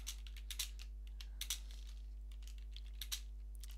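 Keys on a computer keyboard are tapped in short, irregular bursts, close and faint over a steady low electrical hum.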